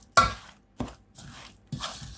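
A spoon works through thick oat, sultana and flour cookie dough in a bowl, giving three or four separate scraping, crunching strokes with short pauses between them, close by and fairly quiet.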